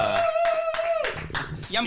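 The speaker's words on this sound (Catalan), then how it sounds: "Aplaudiment." A small studio audience at a comedy podcast taping claps in a few sharp bursts, mixed with a voice speaking throughout over the clapping.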